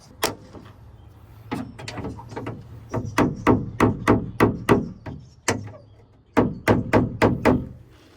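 A hammer striking a car body panel to knock out a dent, sharp metallic knocks in quick bursts of several blows with short pauses between, loud and close with no voices.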